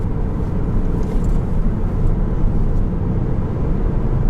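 Steady cabin drone of a 2018 Ford Focus ST on the move as the driver lifts off the throttle, giving a constant low engine and road rumble with no speech.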